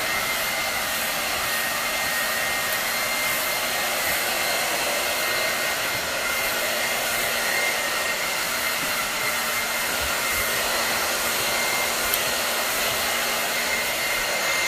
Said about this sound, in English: just loosely following the brush with the blow dryer.